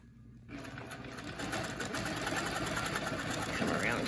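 Sewing machine stitching along a marked seam line during ruler quilting, starting after a short quiet moment and running steadily loud and close, with faint talk in the background.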